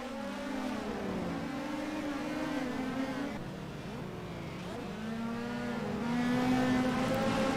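Race car engines drone steadily during a race, with rising and falling pitch as cars rev and pass, a continuous moderately loud whine that swells toward the end, no voices.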